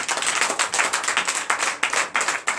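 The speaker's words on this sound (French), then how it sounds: "Donnez l'acclamation à Jésus" A Sunday worship congregation in Comè, Benin, claps in a quick, rhythmic pattern of many hands close together, a bright pulsing burst of applause with no talk over it.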